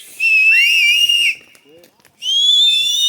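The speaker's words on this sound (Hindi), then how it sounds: "सीटी बजा रहे हैं" Young men whistle loudly at a village haldi celebration at night, with long, piercing, wavering whistles close by, a brief pause with a faint voice, then another sustained whistle.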